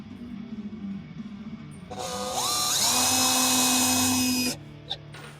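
A cordless power drill drives 3/4 inch screws into a wooden rolling utility cart in a garage. The whine rises in pitch as the motor spins up, runs loud and close for about two seconds, then stops, followed by a small click.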